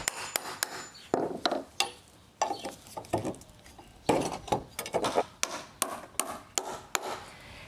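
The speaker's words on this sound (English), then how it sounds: "Use a nail puller to remove the nails and turn these boards over" Sharp knocks and prying clatter as a nail puller works nails out of weathered wooden deck boards, a series of irregular close taps and scrapes with no talking.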